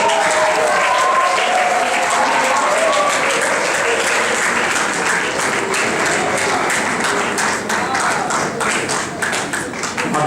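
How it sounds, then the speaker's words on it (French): Audience applause fills the hall at a swearing-in ceremony for midwives: steady, dense clapping held for about ten seconds, close and loud, with a voice faintly audible at the start. "Sous vos applaudissements."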